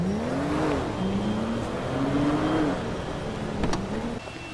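Tracy's car in GTA V is driven along, its engine tone rising and falling in smooth gear-like sweeps, with a sharp click near the end before the sound drops slightly quieter.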